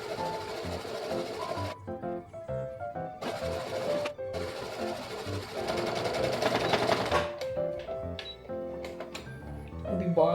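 A sewing machine whirs and chatters in rapid stitching runs while stitching clothes, close and steady, stopping and restarting several times, with a voice talking over parts of it.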